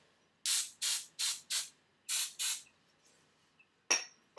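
Six short, close bursts of aerosol hairspray in quick rhythm, hissing loudly, followed by quiet and a light clink near the end.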